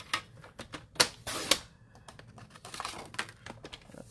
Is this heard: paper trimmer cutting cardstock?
yes